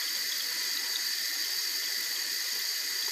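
Water spills steadily from a leaky float valve in a water bowl as a continuous hissing trickle. The overflow holds an even level throughout, with no talking.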